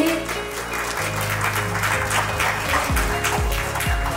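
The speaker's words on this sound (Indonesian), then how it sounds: "Oke, tepuk tangannya dong Bapak Ibu." Audience applause at a ten-year academy anniversary celebration, a steady wash of clapping that runs through the whole stretch, mixed under loud music with sustained tones and repeated falling sweeps.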